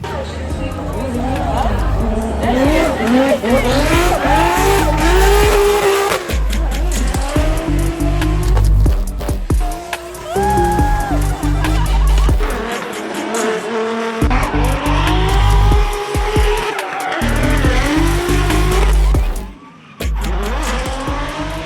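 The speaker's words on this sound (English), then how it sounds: "I just went for my first drifting ever, and in a pro car" A pro drift car with a 2ZJ engine drifting at Laguna Seca during a Gridlife event: a loud, continuous engine roar with long tire squeals and skidding that rise and fall across the run.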